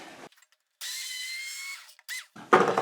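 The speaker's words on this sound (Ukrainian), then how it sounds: "Беремо в руки блендер." A hand blender whirs steadily for about a second through a homemade cheese mixture, then gives a couple of short bursts, followed by a brief clatter.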